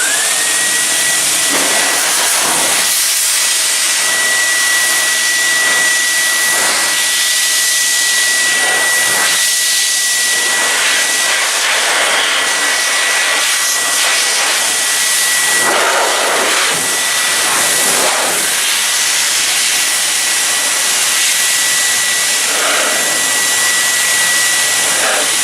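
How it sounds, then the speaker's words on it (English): Blow dryer aimed at the side of a Gtechniq-coated vehicle, a loud continuous airy whoosh with a steady whine, running unbroken and alone for the whole stretch. "Then we move on to the blow dryer, which we'll demonstrate on this side of the vehicle."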